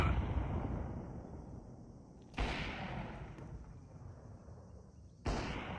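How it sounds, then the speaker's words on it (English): Flashbang grenade bursting in Counter-Strike, two sharp bangs about three seconds apart, each followed by a long ringing, washed-out decay over a steady rumbling game ambience. "Throwing flashbang."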